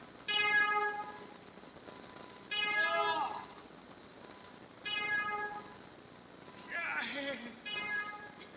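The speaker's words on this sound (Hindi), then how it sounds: "बिल्ली है" A cat meows four times in separate drawn-out calls, fairly close and clear over a faint background hiss, with short pauses between each cry.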